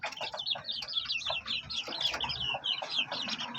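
Young chickens, two stags and two pullets, cluck and chirp repeatedly in a quick, busy run of short calls, close by and moderately quiet, with no one talking.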